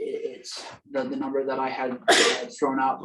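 Someone sneezes loudly during a town wetlands commission meeting. Two sharp bursts cut through a man's ongoing speech.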